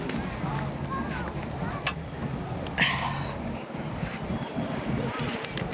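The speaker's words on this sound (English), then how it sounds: "getting a little breezy" Outdoor wind gusts buffet the microphone in a steady rumbling roar, loud and continuous, while someone talks over it.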